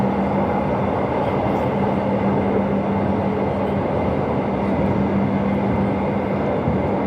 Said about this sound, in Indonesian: kita akan berpapasan dengan LRT dari arah sana itu